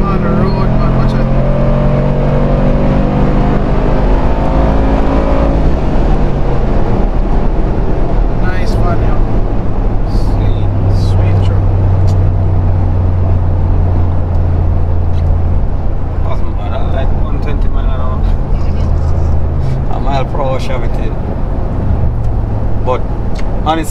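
A 2019 Mercedes-AMG G63 SUV engine on the road, a loud low rumble that rises and falls as the vehicle accelerates, with road noise and brief higher rattles throughout.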